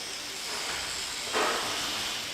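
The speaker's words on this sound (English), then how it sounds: "the sound of this Canadian production line" A steady industrial hiss fills an armoured vehicle production line at a Canadian factory building Roshel Senator vehicles, with a louder burst of hissing machinery partway through and no voices.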